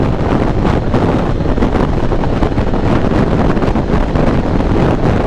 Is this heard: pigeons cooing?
no